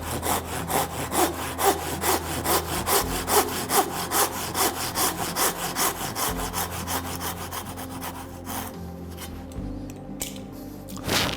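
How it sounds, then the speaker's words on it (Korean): A hand saw cuts back and forth through a block of wood being roughed out for a carved spoon, with steady rhythmic rasping strokes, close and fairly loud, alone without talk. "톱을 이용해서 오목하게 들어가 있는 부분을 먼저 쳐주고 들어가는 게 좋거든요"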